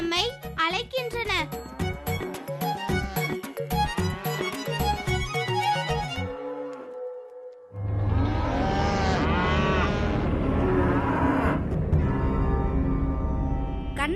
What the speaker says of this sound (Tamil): அனைத்து மாடுகளும் கத்துகின்றன.